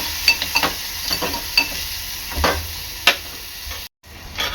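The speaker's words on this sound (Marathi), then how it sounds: "कांदा चांगला लाल होईपर्यंत शिजवून घ्यायचा आहे।" Onion frying in a pan until browned, a steady sizzle broken by a few scraping stirs of a spoon, close and moderately loud, with no talking.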